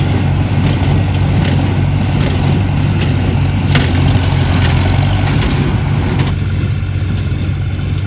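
A tractor pulling a hay baler through a hayfield gives a loud, continuous low engine drone with a steady hum and faint mechanical ticking throughout.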